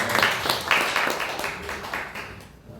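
A short burst of dense clapping from a church congregation that gradually thins and fades out.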